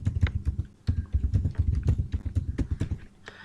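A password typed on a computer keyboard, with a quick, uneven run of close, crisp key clicks over a few seconds and no talking.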